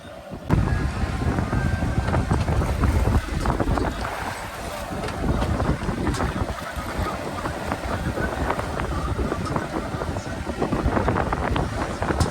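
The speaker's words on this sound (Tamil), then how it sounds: "அலை அதிகமாக இருக்குது ஏன்னா அலைய பாருங்கள் எப்படி இருக்குன்னு" Rough sea waves slosh around a small boat while someone cooks on board. Heavy wind buffets the microphone, and water surges and splashes continuously and loudly nearby.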